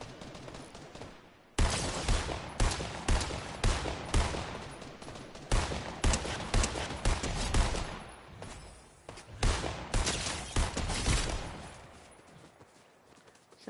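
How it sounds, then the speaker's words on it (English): Sustained bursts of video game gunfire aimed at the player, dense rapid volleys starting abruptly and continuing in loud waves with brief gaps, close and overwhelming throughout. "Someone started shooting me."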